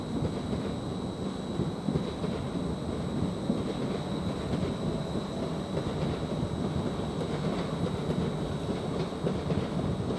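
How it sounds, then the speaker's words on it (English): A Greater Anglia train at Norwich railway station gives a continuous low rumble and rolling rail noise, steady and moderately loud, with a faint high whine over it. "Now we've got another Greater Anglia service, or maybe our Greater Anglia service, which is the 1300 hour service towards London Liverpool Street."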